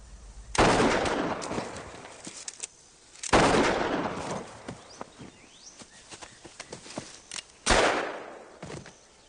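Three loud, sharp gunshots ring out several seconds apart, each followed by a long echoing decay, with faint shuffling and small knocks in the quiet between them.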